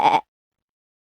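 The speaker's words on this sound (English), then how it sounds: "pig, sheep, Ba, ba, ba." A single sheep gives one short, clear bleat, close and fairly loud, cut off abruptly and followed by silence.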